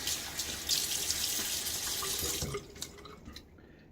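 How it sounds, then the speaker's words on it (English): Tap water running and splashing in a sink as water is cupped onto a face before a wet shave, a steady close rush for a few seconds, then fading into scattered drips and small splashes. "A little water on my face."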